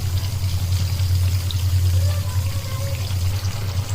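Pointed gourd frying in hot oil, a steady close sizzle that holds evenly throughout alongside a low continuous hum from the stove, with no talk.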